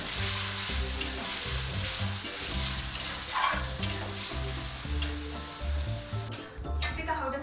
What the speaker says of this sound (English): So I'm going to cook these chicken pieces on a high flame for 2 minutes